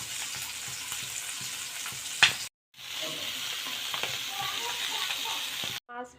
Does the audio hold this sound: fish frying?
yes